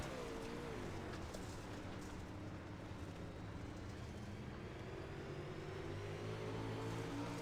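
An onboard dirt modified race car engine drones steadily through a lap at The Grove, a loud, constant roar with slight rises and falls in pitch and no talk.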